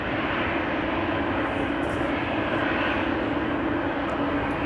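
Transavia airliner departing Amsterdam Schiphol for Thessaloniki, a loud, steady jet engine roar that holds constant throughout without fading, heard alone.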